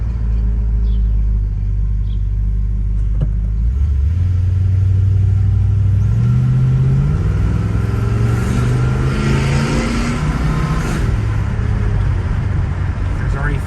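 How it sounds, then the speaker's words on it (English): A 1969 Lincoln Continental Mark III accelerating on the road: the engine's low rumble climbs steadily in pitch through the gears, with smooth shifts and a constant road drone heard from inside the car. "it's just effortless driving this car around"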